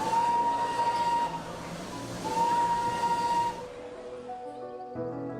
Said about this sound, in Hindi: दूर कहीं से आती हुई टॉय ट्रेन जिसकी आवाज़ आपको कुछ ऐसी सुनाई देगी